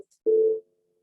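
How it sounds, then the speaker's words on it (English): A phone goes off during an indoor discussion with a single short electronic tone, clear and close, then silence. "Sorry, that's my phone."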